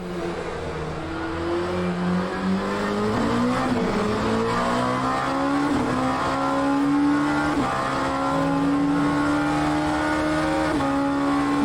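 Prototype race car engine in a racing sim, revving loudly and continuously up toward about 9,000 rpm, with repeated upshifts as the pitch climbs and drops back, close and alone without talk.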